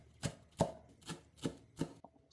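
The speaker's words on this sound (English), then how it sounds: "I'll cut the root and the shoots and chop finely." A knife chops spring onions on a board for budget dumplings, five distinct thuds spaced about a third of a second apart, close and crisp with no talking.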